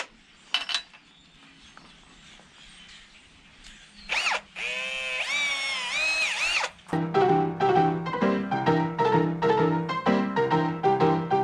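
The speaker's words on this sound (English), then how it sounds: "Let me re-drill this." A power drill re-drills a screw hole in the wooden hull of a Tahiti gaff cutter: a loud whirring burst of a couple of seconds, then a long run of close, rhythmic mechanical pulses.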